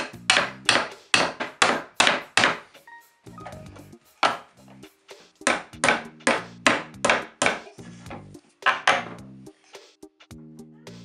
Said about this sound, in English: So I'm going to take the nails out of here